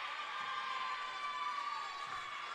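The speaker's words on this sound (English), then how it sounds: "Is that why the crowd's going nuts?" At a high school basketball game, a crowd in the gym roars and cheers in a steady, sustained wash of noise with no clear breaks.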